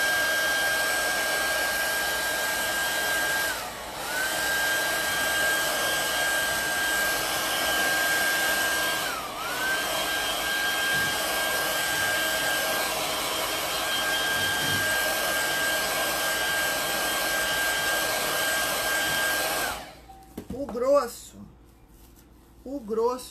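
Hair dryer drying paint on a small fabric bag strap, a loud steady close whine that dips briefly twice and then cuts off near the end, followed by brief handling noise.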